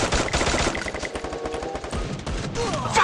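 Rapid automatic gunfire in Garena Free Fire, a steady stream of close, punchy shots in quick rhythmic bursts with brief gaps, loud and mostly alone, with a few faint game effects toward the end.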